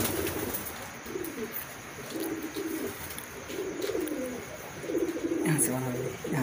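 Pigeons, including a blue one sitting in a corner and a pure Madrasi breed, coo in soft repeated bursts close by, while someone talks over them.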